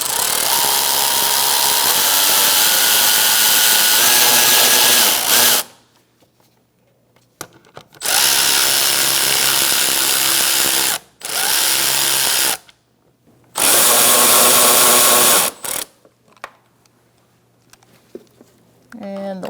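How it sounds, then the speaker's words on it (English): A power tool tightens bolts on the mass air flow sensor of a 2012-2018 Ford Focus, whirring loudly in several separate bursts with short silent pauses between them. "Once you get it lined up, you can tighten down your bolts."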